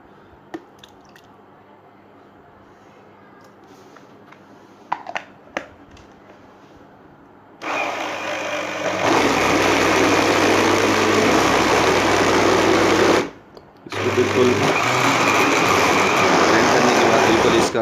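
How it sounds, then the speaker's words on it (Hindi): Juicer blender whirring loudly through tomatoes and preservative for paste, starting after a few faint clicks and drips, running steadily, cutting out briefly, then roaring back on for several more seconds. "तो आम जूसर से आप इसको ब्लेंड कर सकते हैं।"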